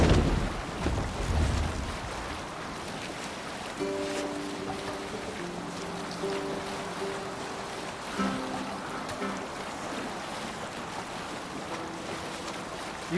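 A Viking longship sails across open water in Assassin's Creed Valhalla, with steady waves, wind rush and creaking hull noise, while a few soft sustained musical tones drift in the background.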